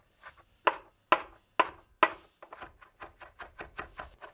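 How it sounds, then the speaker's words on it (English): A knife chops kalettes finely on a cutting board: four heavy, evenly spaced chops, then a quicker run of lighter, rapid taps close up with no talking. "keep chopping this until it's super fine"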